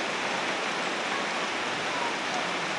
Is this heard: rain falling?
yes